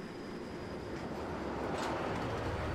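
Kalka-Shimla narrow-gauge toy train pulling into a station, a steady close rumble of wheels and carriage noise with a faint high whine running throughout.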